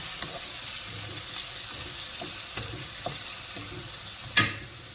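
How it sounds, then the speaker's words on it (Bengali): Black chickpeas and masala get stirred in a pan for chola pulao, a soft steady sizzle under repeated scraping strokes of the spoon, ending in one sharp clack of metal on the pan. "ছোলাটা একটু নাড়াচাড়া করিয়া মশলাটা একটু মিক্স করিয়া দিয়া দিলাম"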